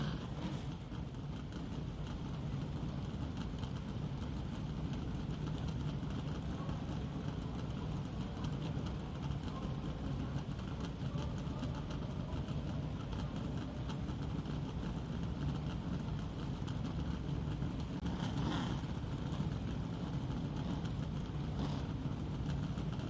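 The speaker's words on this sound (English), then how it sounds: "the roar of the modifieds" Modified race car engines start and idle together at Bowman Gray Stadium on opening night, a continuous low, rumbling roar from several engines heard from a distance, steady throughout with a brief surge near the end.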